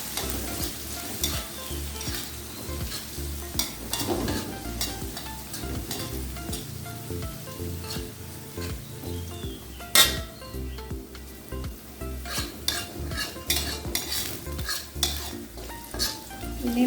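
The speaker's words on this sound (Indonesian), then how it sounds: "Saya akan tumis bawang putih dengan halnya dengan cili padi." Garlic and bird's eye chili stir-frying in hot oil for spicy chicken feet, a steady close sizzle broken by repeated scraping and clinks of a spatula against the pan, with no talking.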